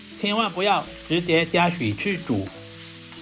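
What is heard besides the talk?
tomato chunks stir-frying in hot oil in a wok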